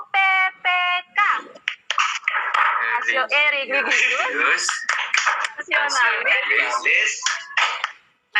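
In an Indonesian classroom, children chant the PPK values in unison and clap in rhythm. Loud, close voices mix with bursts of clapping throughout the chant.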